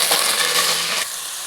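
Chopped onion dropped into hot oil with fenugreek seeds, giving a loud, steady broadband sizzle that eases slightly after the first second, with no voices.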